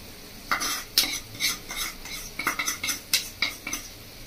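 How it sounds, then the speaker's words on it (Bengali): A spoon stirs powdered milk into a prawn malai curry in a pan, making repeated close metal scrapes and clinks in an uneven rhythm over a faint sizzle. "দুধটা মিশিয়ে নেব"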